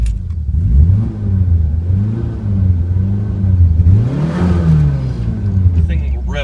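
A Lancia Zagato Abarth's dual overhead cam engine, front-wheel drive with a 5-speed, revs up and down repeatedly from inside the car, a loud, rising and falling mechanical drone.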